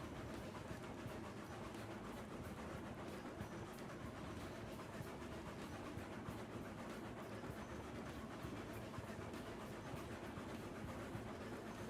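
A model railway freight train running on a layout, a continuous faint rumble with fine rail clatter throughout, steady and fairly distant, no voices.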